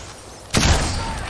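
Video game gunfire erupts partway through, a dense burst of shots that swells suddenly and stays loud to the end.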